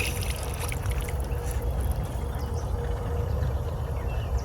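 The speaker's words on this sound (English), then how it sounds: "Open it up. A little bit of spurting, again, some air bubbles." Water from a drip irrigation spigot rushes out steadily with sputtering and gurgling as trapped air escapes, a close, continuous, moderately loud flow with a low rumbling undertone.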